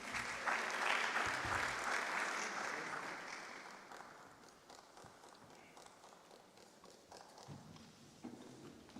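Applause from an audience at a university research day swells at the start and gradually thins out into scattered, fading claps, fairly distant and quiet overall, with faint voices toward the end.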